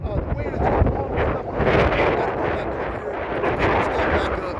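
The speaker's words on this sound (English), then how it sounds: "because it's windy out here today. Really windy." Strong wind blasting across the microphone outdoors at a windy campsite, a loud, continuous rumbling roar with gusty surges throughout.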